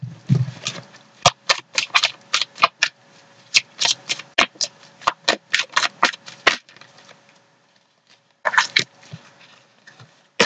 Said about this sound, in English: Guess that's one way to get your cards shuffled.